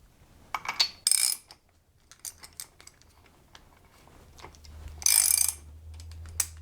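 A wrench ratchets a nut with a Teflon locking gasket tight on Megan Racing coilovers for a Pontiac GXP, giving two bursts of rapid metallic clicking separated by scattered small clinks and taps, close and fairly quiet.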